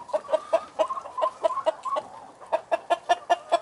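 A young Easter Egger rooster gives a quick series of short clucks with a brief pause in the middle, close by and alone, with no voices.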